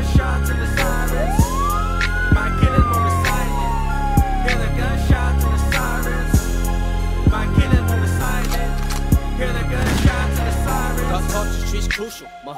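A police siren sound effect rises and falls once across a hip-hop track, a long wailing sweep sitting over steady beats and bass that play throughout.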